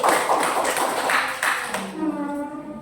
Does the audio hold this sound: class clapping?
yes